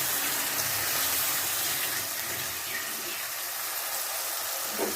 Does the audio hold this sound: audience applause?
no